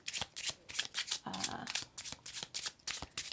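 Tarot cards from a Morgan Greer deck shuffled by hand, a quick series of crisp riffling bursts with a brief bridge-like flutter in the middle, close and clear, no speech.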